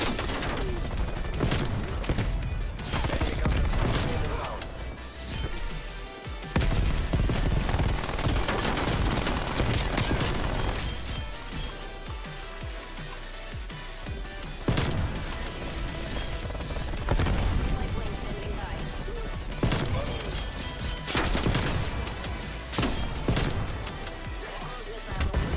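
Sniper gunshots in a first-person shooter video game, loud sharp cracks repeating among constant rattling automatic fire and booms throughout a long chaotic firefight, with occasional player talk underneath.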